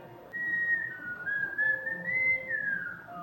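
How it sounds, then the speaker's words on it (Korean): A person whistles a single wavering, sustained tune alone, fairly close and clear, during a relaxed meal while on a solo trip to Jeju Island. "저는 술 마시면 휘파람이 잘 불어져요."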